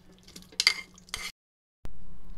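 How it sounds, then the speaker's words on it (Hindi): Soft wet plops and scrapes as mango pieces drop into a mixer jar, a short pause, then a faint steady hum. "आम को मिक्सर जार में डाल देंगे।"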